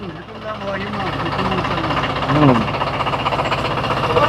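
A small 25 hp four-wheel-drive tractor with power steering and oil brakes chugs along with a rhythmic knocking diesel beat that grows slightly louder, while someone talks over it.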